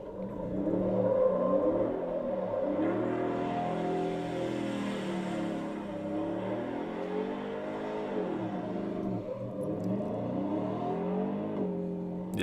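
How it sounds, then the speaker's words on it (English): A Ford Raptor R with a 760-horsepower V8 revs hard and accelerates, its engine note rising and sweeping through gears as it drives fast on dirt, heard continuously from a moderate distance. "He's probably flooring it there to get it up 80 miles an hour drift."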